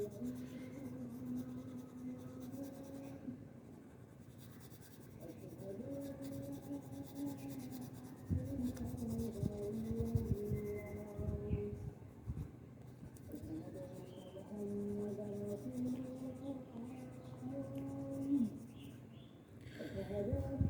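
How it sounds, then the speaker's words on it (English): Crayon strokes rub and scratch softly on paper while colouring the hands of a drawing of a praying man, faint and steady beneath a voice and low tonal background sound. "for the hands you can see I'm using the crayon colors"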